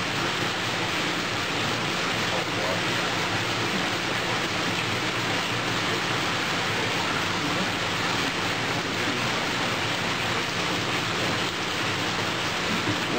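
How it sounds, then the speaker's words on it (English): Steady, continuous rush of liquid draining from a bag of razorback sucker fish eggs, an even hiss-like pour that holds constant from start to finish with no talking. "So we'll drain off the excess liquid."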